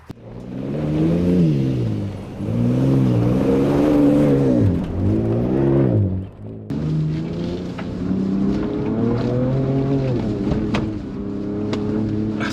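A 2023 Ford Ranger Raptor driven fast in Baja mode, its engine roaring loud and close with rising and falling revs through gear changes, a brief dip near the middle, no talk.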